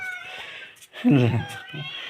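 A cat meows loudly once at close range, with softer cat vocalizations before and after, alongside a person's voice.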